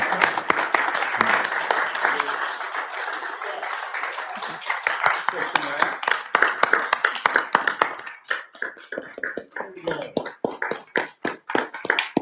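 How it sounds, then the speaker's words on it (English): A crowd applauds, the clapping thinning out toward the end into scattered individual claps, with voices murmuring underneath. "I think we give everybody a round of applause."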